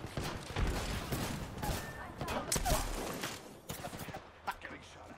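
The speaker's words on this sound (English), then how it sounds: "Getting shot at." Gunfire in Apex Legends, bursts of rapid shots cracking in clusters, some loud and close and others fainter, with a voice talking over parts of the exchange.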